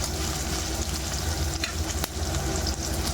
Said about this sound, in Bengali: দিয়ে এটাকে খুব ভালোভাবে ভাজবো